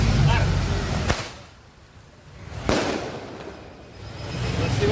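Fireworks shots set off outdoors: two sharp, loud cracks about a second and a half apart, each trailing into a noisy decay over a rumbling background.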